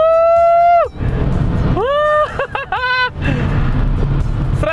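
A Mitsubishi Galant engine revs up toward redline in rising whining sweeps, then repeated shorter rev surges; the sound is close and loud, with road noise between pulls.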